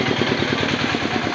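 A Yamaha Mio Sporty motorcycle engine idles close by, a steady rapid pulsing putter with even rhythm and no voices over it.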